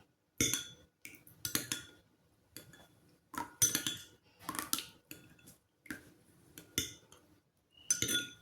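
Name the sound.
stirring natural hair oil mixture with a spoon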